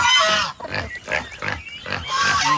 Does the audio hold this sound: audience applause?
no